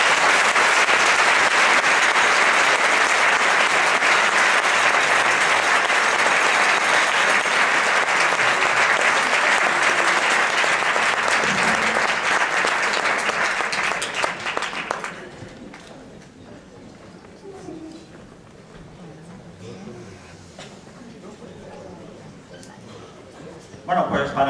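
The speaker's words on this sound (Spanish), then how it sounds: "un aplauso para el grupo Asociación Danza Tradicional Española El Madroño" Audience applause for the traditional Spanish dance group El Madroño at a Tradinvierno 2013 folk performance: loud, dense and sustained clapping from a crowd for about fifteen seconds, then fading into quieter room sounds and a few voices.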